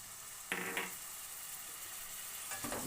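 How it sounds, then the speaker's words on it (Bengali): Kashmiri chilli powder sizzles in a pan as a splash of water is added, giving a steady hiss with two sharper bursts of spitting and stirring, one early and one near the end. "সামান্য কাশ্মীরি লঙ্কা গুঁড়ো সামান্য জল দিয়ে দিলাম"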